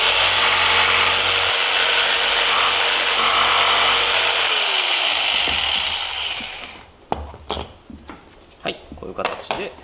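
A hand saw rasps steadily through a round wooden stool seat, a long continuous cutting noise that stops, followed by scattered knocks and handling of the wood.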